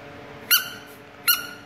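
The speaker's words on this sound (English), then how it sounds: "How do I make it squeak? Well, you gotta squeeze it." A rubber squeaky dog ball is squeezed twice, each squeeze giving a sharp, shrill squeak about three quarters of a second apart, close and clear over a quiet room.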